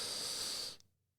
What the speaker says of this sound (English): In through the nose,